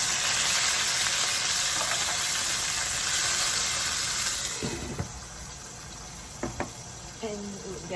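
Food sizzles and fries in a pan during home cooking, a steady hiss that is loud at first and then drops away, followed by a few sharp knocks and clinks of utensils.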